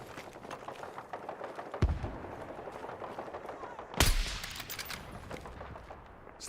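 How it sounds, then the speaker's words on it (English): Sniper rifle shots in Battlefield 6, two sharp cracks a couple of seconds apart, the second louder and closer, over a busy game soundscape with someone talking. "Someone's sniping at me already."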